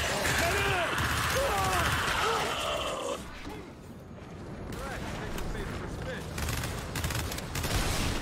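Gunfire in the video game Gears 5, a busy mix of shots and battle noise with chirping effects, fairly loud and continuous with a lull partway through.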